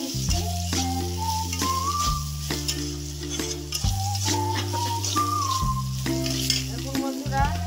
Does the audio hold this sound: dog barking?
no